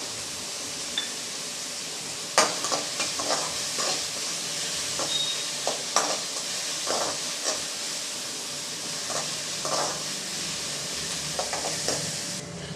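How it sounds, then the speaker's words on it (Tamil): Shallots and peeled garlic cloves sautéing in a pan for dry fish curry, a continuous sizzle broken by repeated scraping and stirring knocks from a spatula, close and steady, no talking. "கொஞ்சம் நல்லா செவக்க வதக்கி விட்டுக்கலாம் இது வதங்கிட்டு இருக்கட்டும்"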